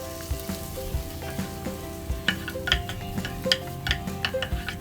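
Chopped capsicum and tomato fry and sizzle in a pan for baby corn pulao: a steady close crackle with scattered pops and light stirring scrapes, no voices.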